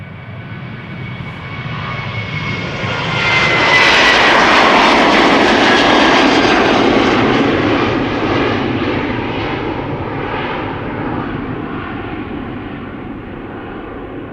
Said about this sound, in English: That's going to be the next airplane taking off from this runway over here.